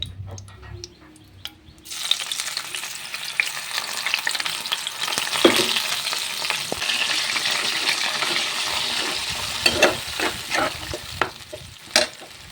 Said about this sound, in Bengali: জিরে ফোড়ন দিলাম এই যে একটু ভাজা ভাজা হয়ে এসছে এখন এর মধ্যে আমি বেটে রাখা পেস্ট করে রাখা মশলাটা দিয়ে দেবো